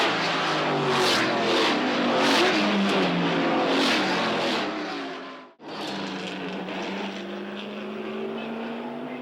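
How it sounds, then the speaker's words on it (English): Trans Am race cars running wheel to wheel, a loud layered engine roar with shifting pitch, a sharp momentary dropout mid-way, then the roar resumes. "Lots of cars racing wheel to wheel."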